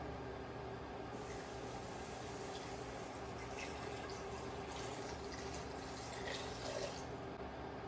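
Vegetable broth pouring into a pot for a vegan gnocchi soup, a soft, steady liquid splash and trickle that rises slightly partway through, heard close and alone.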